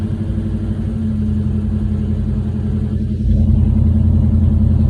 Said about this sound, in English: She's idling now.